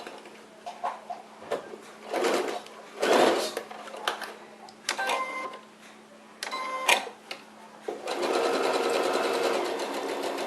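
A sewing machine stitches fabric in short bursts, starting with backstitching, with rapid rattling runs separated by pauses and ending in a longer continuous run; faint handling noises fill the gaps.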